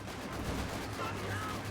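Vickers machine gun fire in a Company of Heroes 2 battle, a dense, continuous rattle of automatic gunfire under a commentator's voice.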